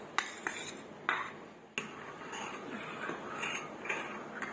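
Metal utensil stirring and scraping chicken cubes in chili garlic sauce in a pan, sharp clinks and knocks at irregular intervals over a soft sizzle, fairly quiet.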